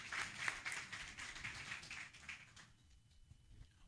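An audience claps faintly after a speech at a football-related gathering in Côte d'Ivoire. The applause is soft and distant, thins out after about two and a half seconds, and leaves near-silence.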